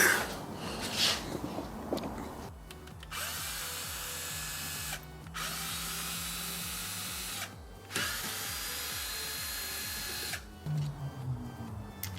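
A power drill or driver backs screws out of a DSM car's cruise control unit, with several bursts of whirring motor separated by short pauses and faint ratcheting clicks, close and fairly quiet with no speech.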